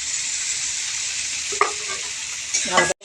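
Vegetables for vegetable fried rice frying in a pan with a steady sizzle, joined by a couple of clear stirring scrapes near the end before the sound cuts off abruptly; no talking.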